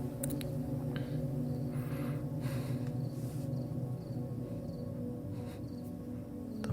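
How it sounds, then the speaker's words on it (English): Crickets chirp faintly in short, repeated pulses over a steady low hum during a quiet meditation session, with no one talking. "I'm trying to hear the crickets."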